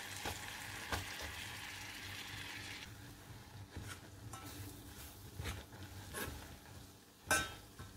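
Plain flour cooking in melted butter in a pan over medium heat gives a faint, soft sizzle, broken by a few scrapes and taps of stirring.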